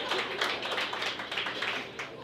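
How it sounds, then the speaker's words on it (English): Audience applause at a stand-up comedy show, a steady wash of many hands clapping close and fairly loud for a couple of seconds, with scattered laughter mixed in. "Some of you clapped, some of you laughed."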